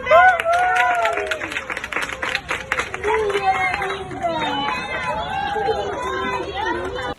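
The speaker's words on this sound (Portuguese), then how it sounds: "uma salva de palmas pro João" A crowd claps and cheers loudly at first, then the applause thins out as people chatter over it.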